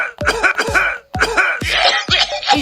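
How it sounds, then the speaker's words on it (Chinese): A game character in a Chinese character-magic video game coughs in four or five harsh, close bursts, each a rough hacking cough separated by brief pauses, with no talk over it. "这咳嗽啊这！"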